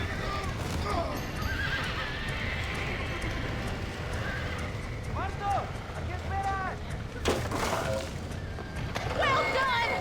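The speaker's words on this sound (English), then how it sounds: "Now let's save the horses!" Several horses neigh in the Red Dead Redemption video game, with repeated sharp whinnies in bursts over continuous hoof clatter and outdoor game ambience, and a voice speaking in places.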